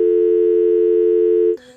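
A phone alert for full storage plays a loud, steady, sustained electronic tone up close, then cuts off abruptly, with no talking.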